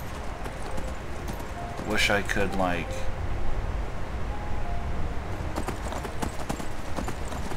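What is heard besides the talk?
horse hooves clip-clopping while riding in video game Skyrim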